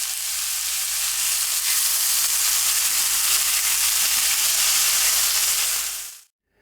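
Bacon frying in a pan alongside nearly cooked burger meat: a loud, steady, close crackling sizzle lasting several seconds before cutting off abruptly, with no talking.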